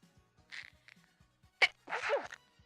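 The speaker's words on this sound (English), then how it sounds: "I just didn't mean to sneeze" A single sharp sneeze bursts out, close and loud, with a short breathy sound after it and faint background noise.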